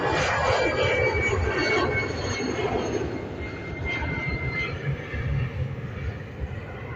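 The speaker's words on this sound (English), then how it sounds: "Here we go, EI210. It's Aer Lingus A320 heading over to Manchester." Aer Lingus Airbus A320 jet taking off from an airport, bound for Manchester: a loud, continuous engine roar with broad rumble throughout, steady and close with slight swells, no talk.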